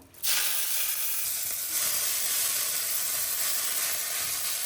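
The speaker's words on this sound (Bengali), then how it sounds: "এবার কিছুটা পালং শাক দিয়ে দেবো" Spinach dropped into a wok (kadai) with a little hot oil bursts into a loud, even hiss that holds steady for several seconds, close by with no voices.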